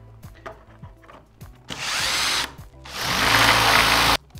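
Metal drill bit boring into a lever lock, heard as two sustained loud grinding bursts of about a second each after lighter scraping and clicking, close up with no talk.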